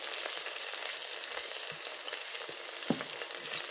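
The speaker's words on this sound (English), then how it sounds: "white rice that I bought yesterday and boiled yesterday, so it has stayed cool, and we'll fry it up." Cooled, day-old boiled white rice fries in a pan with vegetables, giving a steady, close sizzle with small crackles and one sharper pop, no voices.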